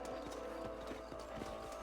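Horse hooves clip-clop at a steady trot over a constant ambient hum in the video game Red Dead Redemption (2010, Xbox 360), the hoofbeats crisp and fairly close.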